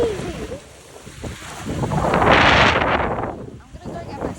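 Strong wind and crashing hurricane-driven waves on a cold shore, a broad roaring surge that swells to a peak midway and then eases, with gusts buffeting the microphone.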